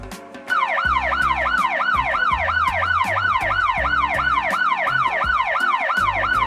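A police car siren wails loudly and steadily in a continuous rising-and-falling cycle, close by on an Australian highway between Adelaide and Melbourne, with a faint low rumble beneath.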